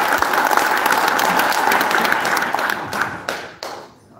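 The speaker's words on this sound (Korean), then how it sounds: "여러분 다시 한번 큰 박수를 부탁드립니다." A crowd at an inauguration ceremony for the Korea Senior Citizens Association chairman breaks into loud, dense applause that carries on steadily before thinning out and fading at the end.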